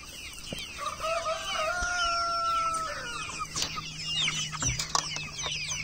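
Turkeys and other poultry calling in a farm pen: overlapping clucks, gobbles and drawn-out crow-like calls, fairly close and steady throughout, with no talking.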